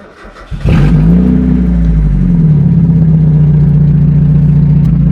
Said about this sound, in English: But let me start the car.